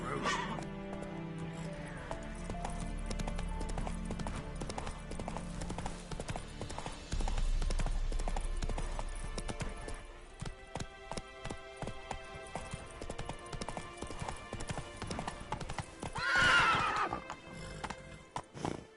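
Roach the horse from The Witcher 3 galloping, a steady run of hoofbeats with a whinny near the end, set against in-game ambience and music.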